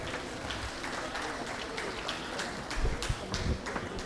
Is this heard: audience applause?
yes